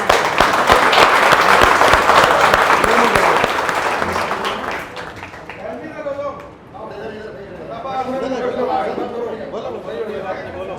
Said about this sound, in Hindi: ताली बजाओ भाई सब।